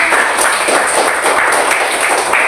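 Class 5 pupils in a classroom clapping together for a correct answer, a dense, even burst of many hands that fills the whole moment at close range with no speech over it.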